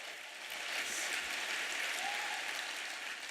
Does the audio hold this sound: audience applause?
yes